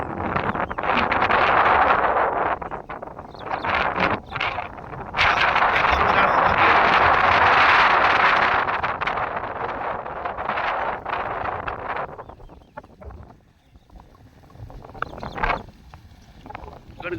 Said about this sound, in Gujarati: પવન ફૂંકા છે બાકી